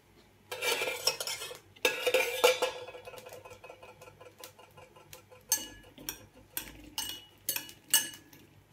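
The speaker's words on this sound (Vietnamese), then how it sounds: "Rồi mình trộn vô." Beetroot salad being tossed with a little cooking oil in a bowl, giving repeated clinking and scraping of utensils against the dish, louder at first and then in irregular taps and stirs, with no talking.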